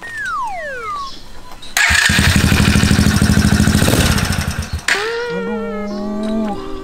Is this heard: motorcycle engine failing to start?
yes